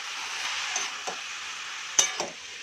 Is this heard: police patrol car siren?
no